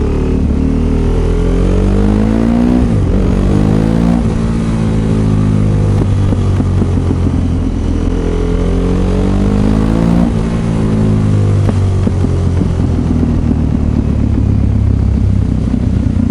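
A supermoto motorcycle engine on the road runs loud and steady throughout, rising and falling through repeated revs and gear changes with continuous rumbling drive.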